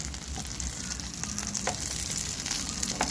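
Potato cutlets stuffed with mince fry in hot oil on a high flame, a steady close crackling sizzle with faint spattering pops, no talking.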